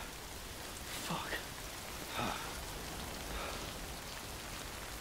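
Rain falls in the video game Death Stranding as a steady, even hiss of drops that swells slightly a few times, with no clear talk over it.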